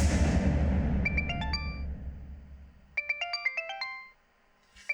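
A mobile phone ringtone plays two bursts of bright, quick electronic notes, loud and close, the first over a low rumbling background and the second alone before cutting off.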